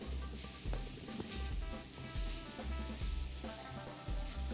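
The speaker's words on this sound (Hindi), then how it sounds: "केरी फ्राइंग पैन में गई, उसको जल्दी से थोड़ा सा फ्राई करें" Raw mango slices sizzle and fry in a hot frying pan, with a steady crackle and occasional soft scrapes or thumps from stirring, close and moderately loud, with no talking.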